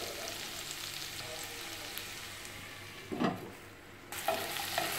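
Finely chopped onion, green peas and other vegetables fry in oil for vegetable biryani with a steady, soft hiss. Two louder scraping stirs break in near the end.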